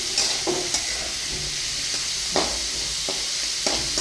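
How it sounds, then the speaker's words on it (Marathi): Onion frying in oil in a pan until it turns red, a steady close sizzle broken by several sharp scraping stirs of a spatula, with no voices. "लाल होईपर्यंत भाजायचं आहे. असा भाजून घ्यायचा."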